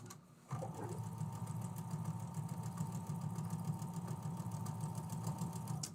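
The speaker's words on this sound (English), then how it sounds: "we're just going to start sewing these up" A sewing machine stitching small fabric thimbles starts up after a short pause and then runs on in a steady, close, fast mechanical whir, with no talking over it.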